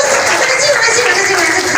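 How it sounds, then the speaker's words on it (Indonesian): An audience at a Maulid Nabi religious gathering applauds, a dense, loud wash of clapping from many hands that holds steady from start to end. "sekali lagi tepuk tangan dulu buat Mas Dito"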